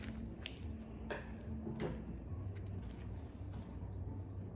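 Scissors trim ribbon on a homemade Disney MagicBand holder with a few quick, faint snips over steady low background noise.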